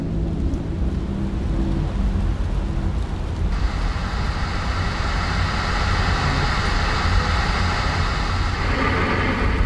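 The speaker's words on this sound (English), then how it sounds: "The rain slashes across the windshield in torrents as you wind down a dark," Torrential storm rain lashes across a car windshield on a dark road, a dense continuous hiss and patter with low rumble underneath, growing brighter partway through; no one speaks.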